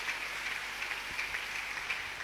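A church congregation claps steadily in a dense, even patter at moderate distance during a worship service, with no talk over it.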